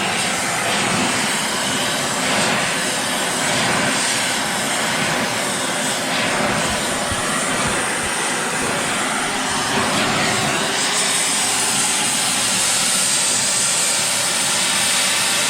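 Oxy-fuel torch heating a hand-made steel steering arm for a Henry J gasser until it glows cherry red, burning the paint off: a steady, loud roaring hiss that runs continuously and brightens in its upper edge toward the end.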